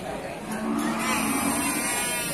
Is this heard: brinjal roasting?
no